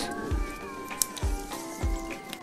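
Cats in a rural yard during a wood-fire oyster grill give repeated drawn-out meows, three rising-falling calls in a couple of seconds, close and moderately loud.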